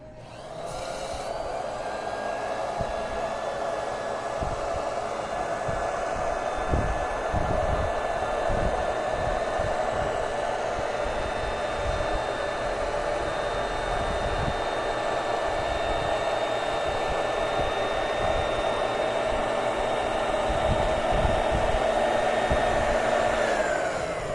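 A sewing machine runs continuously while a woman's blouse is stitched, giving a steady whirring motor hum with faint mechanical ticking, close and even in level.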